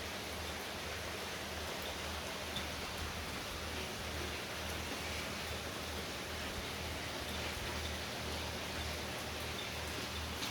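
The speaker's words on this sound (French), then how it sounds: "Beau déluge." Heavy rain pours down in a thunderstorm deluge, a steady, dense roar of falling water that stays loud and unbroken from start to finish with no voices.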